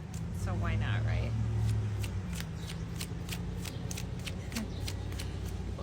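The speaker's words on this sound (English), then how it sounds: "why is that lady sitting on her porch shuffling cards?" Playing cards are shuffled on a porch in quick repeated riffles with crisp flutters, close and clear, over a low rumble of a passing car.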